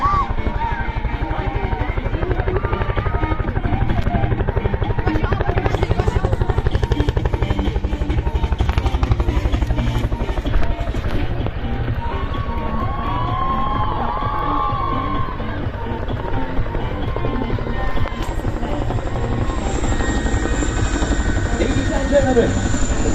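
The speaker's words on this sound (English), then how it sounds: "Ladies and gentlemen, the mighty Chinook." A Chinook helicopter performs at an air show at SKICC in Kashmir, its loud, throbbing twin-rotor drone sustained throughout while a crowd cheers and a voice talks over the noise.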